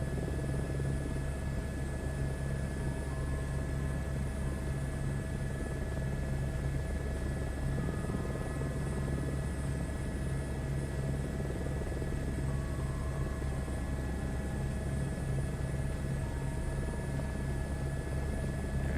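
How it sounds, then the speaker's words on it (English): A helicopter hover-taxis in Microsoft Flight Simulator 2024, its rotor and turbine giving a steady, loud, even drone with a low throb and high whine throughout, with no voices. "Don't want to pick up too much speed on the hover taxi."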